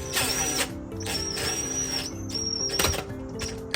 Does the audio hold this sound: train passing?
no